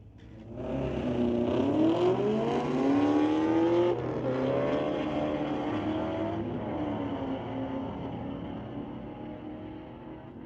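A Camaro launches down the drag strip at Mission Raceway Park, its engine winding up through rising, falling gear sweeps, loud at first and then easing into a steady, fading drone as it pulls away.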